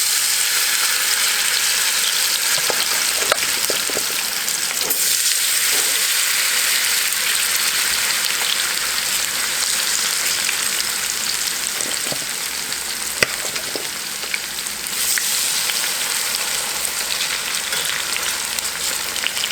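Yellow squash fries in batches in a skillet, a loud, steady sizzle and crackle that runs the whole time, with a few soft stirring knocks now and then.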